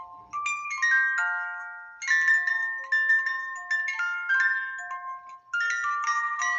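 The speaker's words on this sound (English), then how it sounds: "It's a little music box is all it is." A small music box plays Jingle Bells, bright plucked metallic tines ringing out in a steady tinkling melody, clear and close with no talk.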